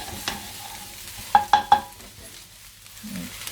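A spoon stirs lasagne ingredients frying in a pan, giving a steady low sizzle with three sharp scraping knocks on the pan in quick succession, no talking.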